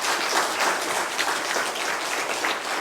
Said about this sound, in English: You may now give them a round of applause.